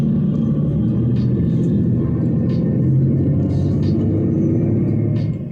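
A mail truck drives by close, giving a steady low engine rumble and road noise that holds evenly for several seconds before easing slightly at the end, with a few faint higher clicks above it.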